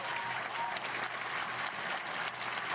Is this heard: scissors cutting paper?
no